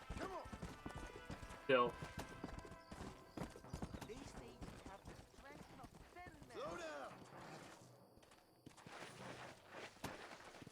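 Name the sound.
horse hooves clip-clopping in video game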